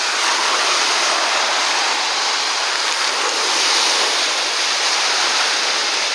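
Waves wash steadily onto a short little beach strewn with sea glass, a continuous broadband surf roar that stays loud and close throughout with no voices.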